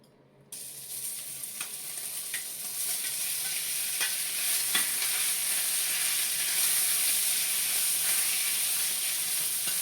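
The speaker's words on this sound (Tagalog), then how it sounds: "Ipa-fry lang natin yung ating belly until mag-light brown siya." Pork belly fries in a hot pan until light brown, a loud steady sizzle that bursts in suddenly and holds constant, with faint spatters and stirring clicks.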